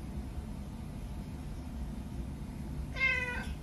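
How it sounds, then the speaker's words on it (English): A male house cat lets out a single clear meow near the end, rising out of a steady low hum and background noise. "they react to his meows"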